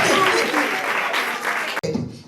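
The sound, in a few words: audience applause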